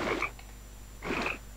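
Frog croaks from a fish video game, two short croaking calls about a second apart, close and clear over a low steady game hum.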